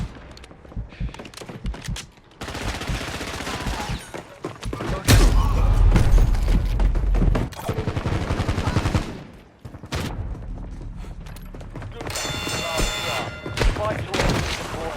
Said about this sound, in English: Bloody hell, I'm hit! Marking enemy. Incoming shots!